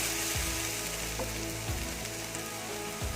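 Onions sizzle steadily in a hot pan, a continuous dense frying hiss with faint low clicks now and then, close up and alone without any talk.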